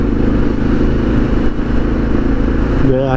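A Suzuki DR650 motorcycle with an FMF exhaust upgrade runs steadily while being ridden, a loud, continuous low engine drone that shifts pitch near the end as it revs up.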